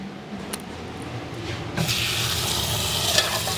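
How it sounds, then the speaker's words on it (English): Cold tap water runs into a pot of potatoes for rinsing, starting quieter and then gushing steadily and closer for the rest, with no talk. "So I'm going to give them a quick rinse, top them with cold water"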